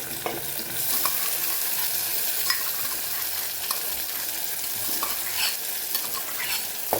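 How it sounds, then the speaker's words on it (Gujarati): Chopped tomatoes and garlic chutney are stirred into onions frying in a pan. A steady sizzle runs throughout, broken by repeated scraping stirs of a spoon against the pan, close and fairly quiet, with no voices. "અહીંયા આપણી ડુંગળીનો કલર બદલાઈ ગયો છે તો ટમેટાને ઉમેરી દઈશું સાથે આપણે જે લસણવાળી ચટણી તૈયાર કરેલી એ પણ ઉમેરી દેવાની છે"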